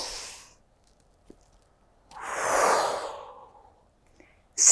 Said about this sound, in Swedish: Och blåser ut.